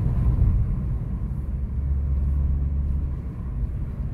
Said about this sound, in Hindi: कार को मैं थर्ड गियर में पुल कर रहा हूँ.